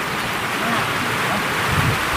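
Heavy rain falls steadily at a house under construction, a dense, unbroken wash of noise that stays loud and even throughout.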